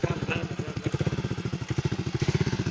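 A motorcycle idles close by in a village, its engine thumping in a fast, even pulse that holds steady and grows slightly louder toward the end.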